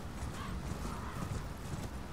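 Horse hooves clip-clop steadily in Elden Ring as a mount gallops through the Caelid region, the rapid rhythmic beats close and continuous over a dense, rumbling wind backdrop.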